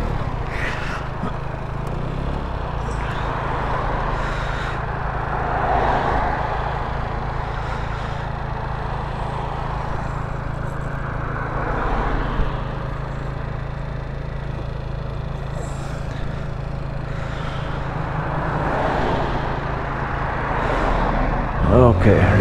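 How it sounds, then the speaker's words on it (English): Continuous road traffic, cars swishing past one after another in repeated swells every few seconds, a constant engine drone underneath and a louder pass near the end. "There's still a lot of cars coming."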